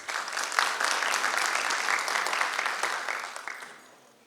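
Sustained audience applause at a Yunus Emre commemoration evening, steady and full for about four seconds before fading out.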